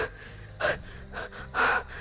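A man's heavy, gasping breaths, two loud ragged inhalations with a quieter breath between, close and alone, as if out of breath after being hurt.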